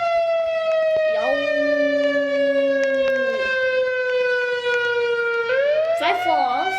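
Tornado siren sounding in Brookhaven: a loud, continuous wailing tone that holds steady, dips and rises in pitch, with faint background voices underneath.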